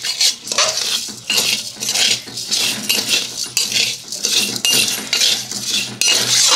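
A spoon stirs coffee powder in a metal pan for a homemade henna hair dye, making rhythmic scraping and clinking strokes, close and loud, repeated several times without talk.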